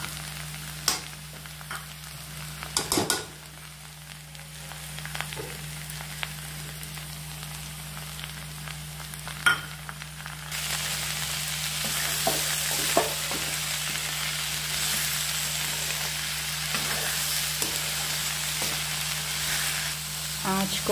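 A mix of beans, onion and potato fries in a pan, giving a steady soft sizzle with occasional stirring scrapes; the sizzle grows brighter in the second half.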